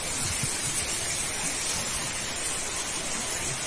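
Heavy rain falls in São Miguel das Matas as a steady, dense hiss with no pauses, close and constant throughout.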